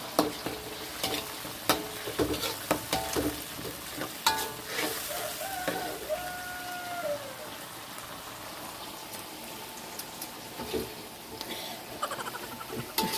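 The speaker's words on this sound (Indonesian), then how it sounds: "goreng oncom" Oncom, a fermented Indonesian soybean cake, fries in a pan with steady crackling sizzle and occasional stirring scrapes, heard close, while kitchen noise and a brief tone drift through.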